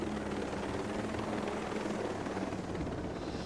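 Helicopter rotors thump and drone steadily and continuously in the tactical shooter Ghost Recon Breakpoint, loud and close throughout with no pauses.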